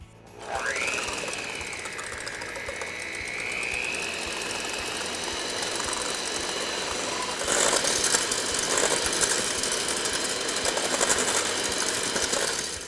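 An electric mixer whirs steadily as it beats egg whites toward foamy peaks for a cake, a continuous motor drone that rises in pitch as it starts and gets slightly louder and rougher partway through, with no voices.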